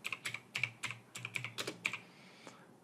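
Close, quick typing on a computer keyboard, about a dozen crisp key clicks in uneven bursts over a few seconds, then stopping.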